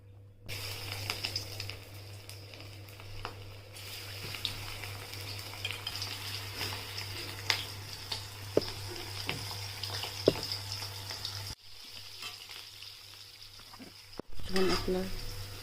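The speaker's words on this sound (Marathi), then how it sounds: "आता हे पण तळून घेऊया." Cauliflower manchurian pieces deep-fry in hot oil with a quiet, steady sizzle under a low background hum. Occasional small clinks and stirring sounds break in.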